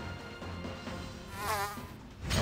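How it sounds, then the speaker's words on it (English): Buzzing insect noise in the video game Digimon Survive, a steady droning hum with a rising wavering whine in the middle, moderately loud and continuous with no talk over it. "God, that buzzing noise."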